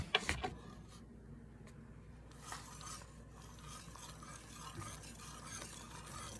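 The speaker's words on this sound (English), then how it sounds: "I'm just going to keep stirring around" Cream gravy being stirred in a pan, with a few clinking utensil taps at the start, then a soft, quiet scraping and swishing that continues in uneven strokes.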